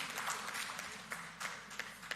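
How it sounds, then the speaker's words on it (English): Audience applause at a press conference, faint and distant, a brief stretch of scattered clapping with no voices over it. "Give her another round of applause,"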